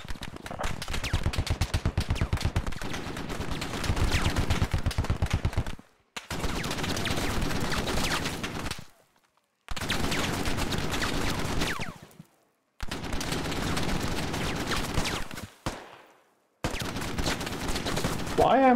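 Enemy machine gun fire in the first-person shooter Squad: dense, loud automatic bursts lasting a few seconds each, broken by short silent lulls, with rapid rattling shots throughout.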